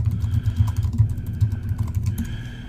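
Rapid, steady typing on a computer keyboard, close and clear, with a dense run of light key clicks over a low background hum and no talking.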